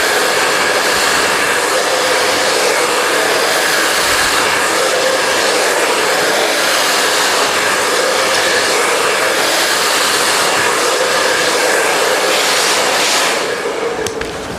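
A hair blow dryer runs steadily and loudly throughout, its broadband whoosh unbroken during an in-turn blow dry of a razor/feather haircut, easing off slightly at the very end.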